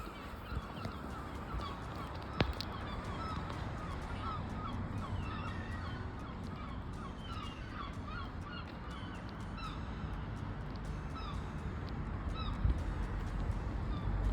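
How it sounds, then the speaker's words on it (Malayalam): Many birds, including seagulls, call and chirp continuously against a steady outdoor background hum of vehicles on a nearby road, with scattered overlapping calls throughout and a sharp knock early on. "കിളികളൊക്കെ കരയണ ശബ്ദം കേൾക്കാനുണ്ട് എന്ന് വിശ്വസിക്കുന്നു"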